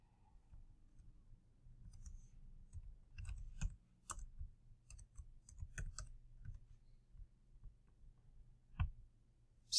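Quiet, irregular typing on a computer keyboard during online account registration, with soft key clicks arriving in short bursts and pauses and a few sharper taps, heard alone and close.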